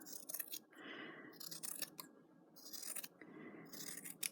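Scissors cut apart two fabric pieces for a drawstring pouch in a series of quiet, close snipping and slicing strokes, with soft crisp bursts recurring every second or so.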